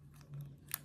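A single quick snip of scissors trimming macramé string near the end, soft and close, over a low steady hum.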